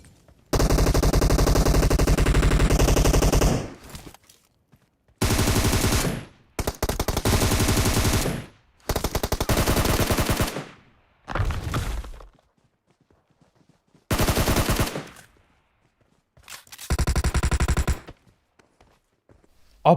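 Gunfire from a PUBG Mobile match: several loud automatic bursts of several seconds each, separated by short silences, close and without talk.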